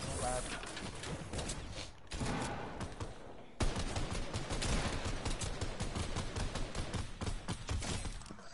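Video game gunfire, a busy stretch of rapid shots and cracks that briefly cuts out, then resumes loud and dense, with voices talking over it.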